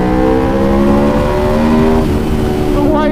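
A 2019 Aprilia RSV4 1100 Factory motorcycle engine revs hard and steadily, a loud, close, sustained high-rpm roar with layered harmonic tones that shift in pitch partway through.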